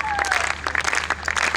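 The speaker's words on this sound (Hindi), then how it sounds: "कुछ तालियां बजाइए, कुछ मुस्कुराइए" Brief burst of audience applause at an Eid mushaira poetry gathering, a crowd clapping steadily and fairly close for under two seconds, with a thin steady tone running beneath.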